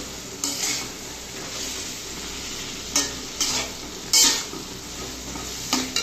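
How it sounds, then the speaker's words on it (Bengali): Bottle gourd cooks in a covered pan and is stirred, giving a steady close sizzle punctuated by several distinct scraping clatters of a utensil against the pan, with no voices. "লাউয়ের ঢাকনাটা তুলে আমি আবার একটু নাড়াচাড়া দিয়ে দিচ্ছি।"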